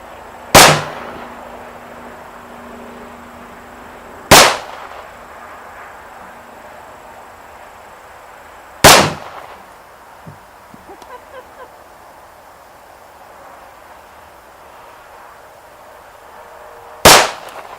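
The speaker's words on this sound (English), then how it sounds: "we're going to be shooting it, or at least I'm going to be shooting it, on my specialty course" Four sharp gunshots from a Colt 1911 pistol ring out on an outdoor shooting course, spaced several seconds apart and loud, each with a brief echoing tail, and faint small impacts or clatter follow the third shot.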